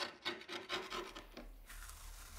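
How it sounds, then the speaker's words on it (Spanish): Grip tape is peeled off a skateboard: rough rasping scrapes repeat in quick strokes, then settle into a steadier gritty rub, close and fairly quiet. "El primer paso es quitar la lija antideslizante."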